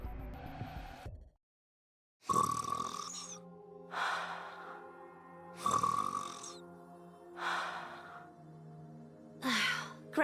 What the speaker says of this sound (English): Ave's snoring is goddess level. We can hear it all the way from over here.